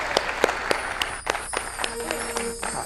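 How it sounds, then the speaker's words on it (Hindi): A crowd at a spiritual festival claps to welcome a guest, with sharp, scattered claps cutting through ongoing talk and background music tones. "एक बार जोरदार तालियों द्वारा हम उनकी स्वागत करते हैं"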